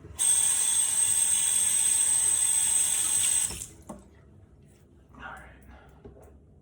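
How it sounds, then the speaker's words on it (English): A tap runs loudly and steadily for a few seconds while someone wets their face at a sink before a shave, then it stops, leaving faint splashes and handling sounds. "I'm going to wet my face and we'll jump right into it."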